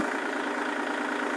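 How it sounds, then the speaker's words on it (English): A Kubota tractor engine idles steadily at a constant, even level, close and alone with no speech. "going to turn off the tractor"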